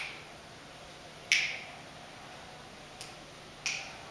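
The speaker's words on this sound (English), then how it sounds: "like snap your fingers" Three crisp finger snaps near a choir microphone in a quiet hall during a sound check, spaced irregularly with a bright ring after each.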